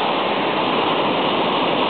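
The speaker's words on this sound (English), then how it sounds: "A lot of water here in Hermosa Beach." Ocean surf at Hermosa Beach makes a steady, loud wash of rushing water with no breaks and no voices.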